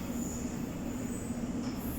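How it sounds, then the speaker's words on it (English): A London Underground Metropolitan Line train standing at or pulling through Finchley Road station, a steady rumbling hum with a sustained tonal whine throughout, close and continuous, with no talk. "This is an all-stations Metropolitan Line train to Uxbridge."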